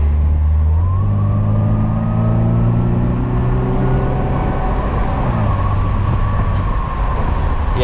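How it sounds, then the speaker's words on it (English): A 1998 Mercedes-Benz SLK 230 with no exhaust resonator drones loudly from inside during a night drive, with low engine tones rising through the gears and then holding steady under continuous road noise. "There's no resonator on the car, so it's got some drone to it out the exhaust."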